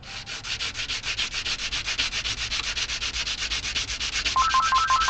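Wood sanded by hand at a workbench, a fast, even back-and-forth rasping in regular strokes, loud and close, with a faint tone entering near the end and no talking.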